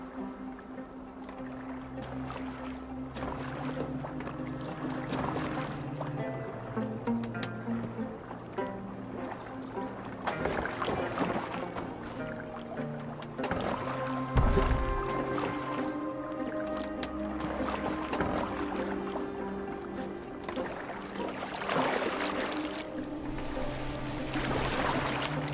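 A boat is rowed on water in the video game Assassin's Creed Valhalla, with soft repeated oar splashes and lapping water beneath dialogue and ambient music.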